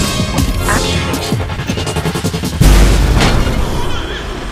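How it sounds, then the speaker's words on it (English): Logic Bomb special power going off in the video game Remember Me, a loud booming blast with crashing impacts amid ongoing combat effects, a sharp heavy hit landing midway and rumbling on. "Let's try the Logic Bomb."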